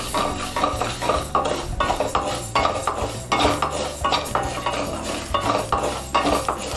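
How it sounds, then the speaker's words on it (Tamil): Urad dal roasts in a pan with melted butter, a spatula scraping and stirring in a quick, steady rhythm with metallic clinks against the pan, close and fairly loud. "அடுத்தது உளுந்தை நம்ம வறுத்துக்கலாம்."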